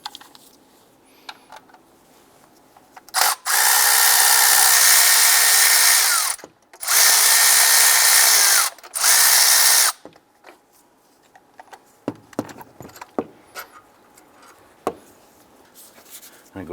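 A power ratchet driving a 15mm socket on the alternator bolts of a 2002-2008 Dodge Ram 1500, three loud sustained whirring bursts close up, followed by lighter clicks and tool handling.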